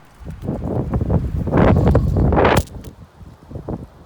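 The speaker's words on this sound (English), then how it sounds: "Speaking of windy conditions." Gusty wind buffets the microphone on a golf course, rising in a strong rush of roaring noise before easing back to lighter gusts.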